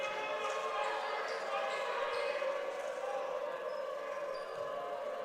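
A high school student section at an Ames vs Waukee basketball game sustains loud wailing tornado-siren imitations with their voices during free throws, a steady crowd wash with no break.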